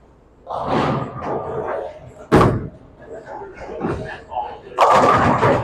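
A bowling ball hits the pins for a strike during a championship match at Andover Lanes, giving one sharp, loud crash. Lane rumble and crowd noise fill the air around it, with a second burst of noise near the end.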